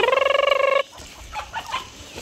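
Chickens on a farm, beginning with a loud, close, rhythmic burst of squawking clucks that cuts off abruptly, followed by quieter scattered clucking and rustling.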